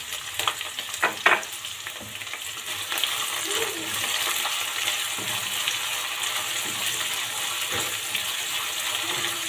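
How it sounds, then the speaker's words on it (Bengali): Chopped onion frying in oil with cardamom and peppercorns for chicken biryani, a close steady sizzle broken by a few sharp spatula knocks and stirring scrapes early on, then a smoother hiss. "হালকা বাদামি ব্রাউন কালার করে ভেজে নেব"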